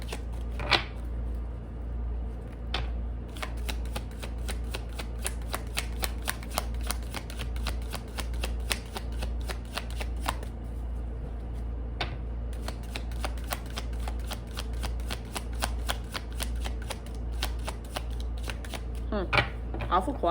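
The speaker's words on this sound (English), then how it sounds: "I can't actually shuffle the cards" Close, crisp tarot card shuffling: a long run of rapid papery clicks and flicks over a low steady hum, with brief pauses between bursts.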